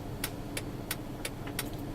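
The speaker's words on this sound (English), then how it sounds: "I'll put the right turn signal on" A car's right turn signal ticks inside the cabin, six or so sharp, evenly spaced clicks in a steady rhythm over a faint idling hum.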